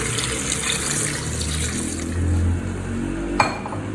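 Water pours steadily into a cooking pot for ghiya gosht, bottle gourd with meat, a continuous splashing rush, ending with a single metallic clink.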